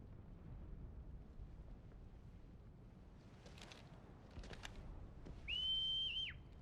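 A whistle in the video game Final Fantasy XVI: one clear, steady tone held for about a second near the end, rising above faint ambient game noise and soft rustles.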